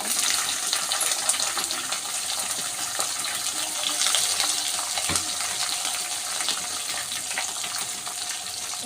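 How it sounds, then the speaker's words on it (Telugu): Onions, chillies and curry leaves fry in hot oil for samiya upma, giving a steady close sizzle with scattered crackles and occasional stirring scrapes. "దీనిలోకి ఆనియన్స్ చిల్లీస్ కరివేపాకు వేసేసుకున్నాం"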